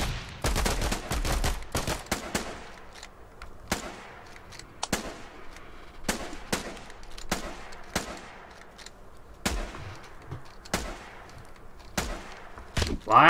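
Gunfire in the Foxhole war game comes as repeated sharp rifle shots, some in quick bursts and others spaced seconds apart, over a quiet background.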